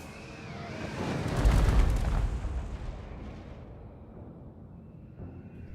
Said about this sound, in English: Have the rocket batteries shoot there. And let's have the mortars.